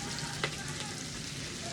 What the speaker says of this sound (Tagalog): Yan, maganda ng pagkakagisa ng bawang at sibuyas.